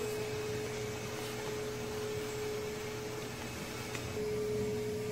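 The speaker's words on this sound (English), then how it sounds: "my mom is vacuuming the cat litter" A vacuum cleaner cleans up cat litter in the next room, a steady muffled drone with a constant hum, heard through a closed door with no talk.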